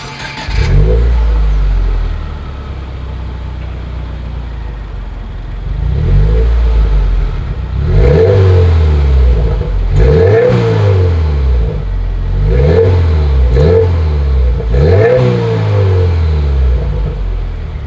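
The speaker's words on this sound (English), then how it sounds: "as always, here is that exhaust clip" A 2020 Subaru WRX exhaust runs at a loud idle, then gets repeated sharp throttle blips. Each rev climbs and drops back quickly, and the engine settles between bursts, heard close up with no talking.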